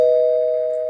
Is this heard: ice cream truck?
no